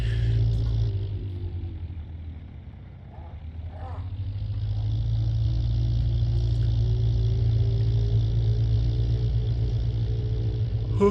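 A car engine drones through video game road traffic, a steady low rumble that eases briefly before swelling back to a constant drive, heard alone without talk.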